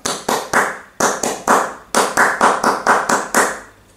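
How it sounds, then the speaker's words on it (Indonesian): A scout group claps the Pramuka clap in a brisk, patterned rhythm, bursts of quick claps separated by short pauses, loud and close with no talking. "Yuk, kita tepuk pramuka."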